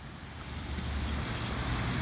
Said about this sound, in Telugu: ఇక్కడ మీకు ఇంకొక different kinds of water fall